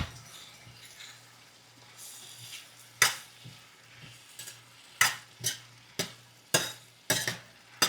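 Onion and potato curry is stirred in a kadai, with a series of sharp spoon-scraping strokes that grow more frequent toward the end over a faint, steady sizzle.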